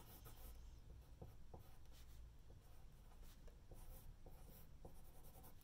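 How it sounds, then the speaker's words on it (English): Pencil or pen scratching across paper while writing a note, a steady soft scraping with brief taps between strokes, close and quiet with no talking. "And I write"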